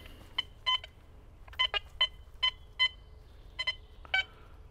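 Quest X10 IDmaxX metal detector giving a series of short, clear electronic beeps, mostly single or paired, spaced irregularly over a faint background hiss, with no talking.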